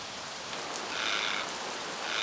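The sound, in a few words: frogs croaking in monsoon rain, Nicobar Islands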